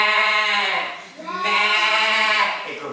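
A single voice imitates a goat's bleat in a wavering, nasal 'mééé' that rises, dips briefly and swells again over about three seconds, close and clear with no other sound, as in a French animal-sounds nursery rhyme.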